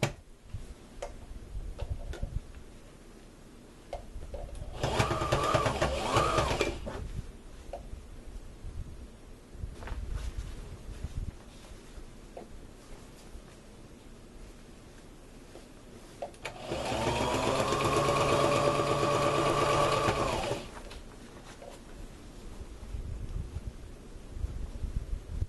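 A sewing machine stitches vest fabric in two separate runs, each a dense, steady burst a couple of seconds long, with quieter handling sounds and faint clicks between them.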